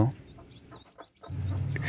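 A native hen gives a few soft, low clucks close by, short and irregular, amid quiet background noise.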